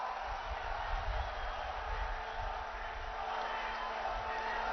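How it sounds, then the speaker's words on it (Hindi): A large crowd gives a steady, dense roar of clapping to welcome Indian Prime Minister Narendra Modi at a foundation-stone ceremony at Kalki Dham. The applause is continuous and fairly loud throughout, with a low electrical hum underneath. "भारत के यशस्वी प्रधानमंत्री आदरणीय नरेंद्र मोदी जी, जोरदार तालियों से स्वागत"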